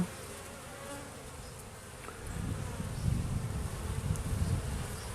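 Honeybees buzzing busily at the entrance hole of a hive being prepared for winter, a dense close hum that swells louder after the first couple of seconds.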